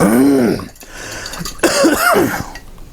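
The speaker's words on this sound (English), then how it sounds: "Forgive all my hacking and coughing here." Several harsh, close coughs in quick bursts, with a throat-clearing rasp between them and no speech.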